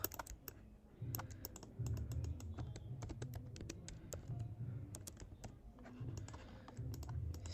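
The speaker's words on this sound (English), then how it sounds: "then I'm going to type new in" Keys clatter on a computer keyboard during mobile app UI design work in Figma, a steady run of quick close clicks and taps in a quiet room with no talking.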